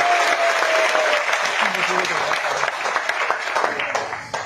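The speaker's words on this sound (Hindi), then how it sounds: "एक बार तालियां बजा दीजिए, बहुत बढ़िया" An audience at a network-marketing seminar in a hall breaks into lively applause, continuous clapping with a few cheers mixed in and a voice speaking briefly over it.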